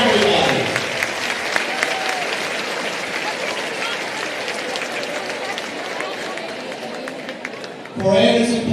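Crowd applause at a district boys and girls high school basketball championship, sustained and loud through the whole stretch with a brief swell near the end, while an announcer speaks over it.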